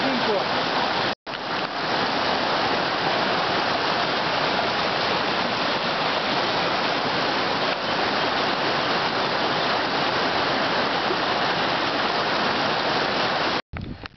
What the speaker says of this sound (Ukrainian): трошки ближче підійшов до водоспаду